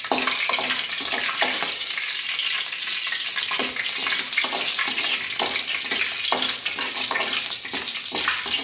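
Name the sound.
mustard seeds and urad dal spluttering in hot oil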